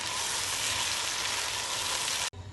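Tomatoes and green chillies fry in a pan for a chicken palak gravy, a steady, loud, close sizzle that runs almost unbroken and then drops away briefly near the end. No one speaks.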